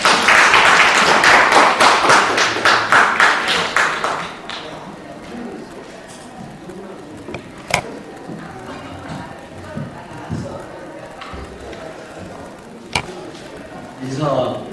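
An audience at an event held at the National Assembly breaks into rhythmic, loud clapping for about four seconds, which then stops and leaves a quiet room with a few isolated taps and knocks.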